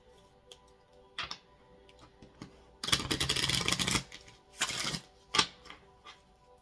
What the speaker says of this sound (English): Some light shuffling here to start.